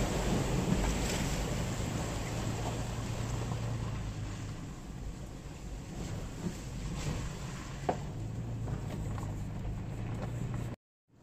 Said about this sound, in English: Looks like we're coming up on the first water crossing of the journey.